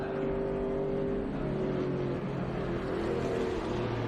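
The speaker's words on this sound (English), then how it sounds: "You can hear the car protesting underneath him." A TA2 race car engine straining on a qualifying lap at Watkins Glen, a steady droning rasp with shifting tonal whine and no clear gear changes, moderately loud.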